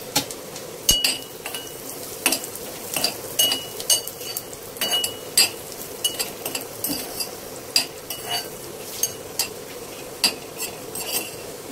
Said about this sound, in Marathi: त्याच्यातच आपण हे धणे घेतलेले ते टाकून भाजून घेऊ।